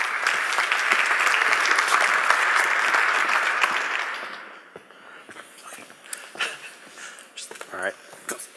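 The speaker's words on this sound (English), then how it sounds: "please give him a warm round of applause." A conference audience gives a loud, dense round of applause for a founder and CEO taking the stage. The clapping holds steady for about four seconds, then fades as scattered claps and a speaking voice take over.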